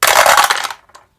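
Ten dice tumbling together in a loud, dense clatter for under a second, then a couple of small final clicks as they settle, with no talk.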